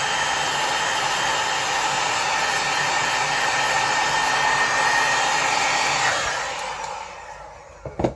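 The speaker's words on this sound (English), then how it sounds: "So what I'm going to do is just heat shrink it a little bit." A heat gun blows a loud, steady rushing hiss while shrinking heat-shrink tubing on a wire connector for a homemade voltmeter, running about six seconds before cutting off and leaving a few faint clicks.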